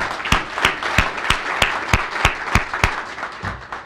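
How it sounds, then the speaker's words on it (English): Applause from an audience of season ticket holders at a university women's basketball press conference, with scattered individual claps ringing out clearly over a steady wash of clapping for about four seconds, fading slightly at the end. "I want to give you all a round of applause for supporting our program."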